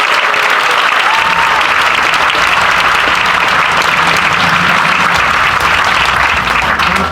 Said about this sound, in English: And a big round of applause for our other contestants who all played brilliantly